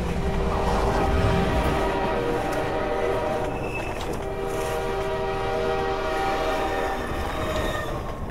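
In Half-Life 2, a train rumbles past loud and close with a sustained horn blaring over the steady clatter of the wagons, with no talking.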